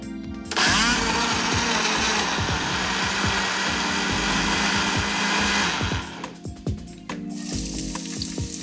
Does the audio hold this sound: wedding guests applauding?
no